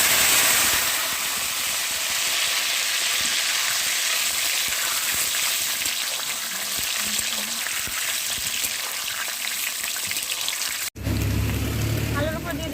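Potato pieces fry in hot oil with a steady, dense sizzle that runs unbroken before cutting off abruptly near the end, followed by a brief quieter stretch.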